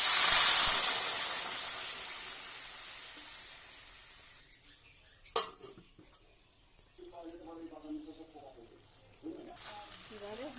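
Water poured into a hot pan of Malabar spinach greens with dried fish and ground cumin and coriander, a loud burst of sizzling steam that quickly dies down, followed by quieter clinks and a few spoken words.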